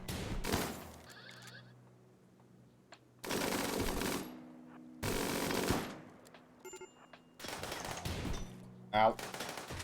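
Gunfire in the video game RimWorld, with bursts of loud rapid shots in several separate volleys and quiet gaps between them, plus brief game effect sounds.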